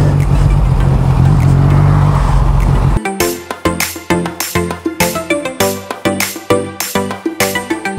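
A Ducati motorcycle engine roars loudly and steadily, then from about three seconds breaks into a rapid series of sharp, repeated revs and bursts, close by and alone without speech.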